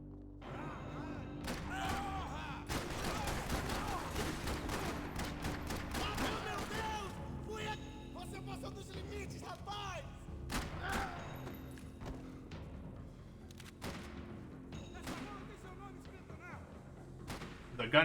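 Gunfire from the shooter Max Payne 3 crackles in dense, rapid bursts of sharp shots, heaviest early on, then thinning into scattered cracks and thuds, with game voices and effects mixed in throughout.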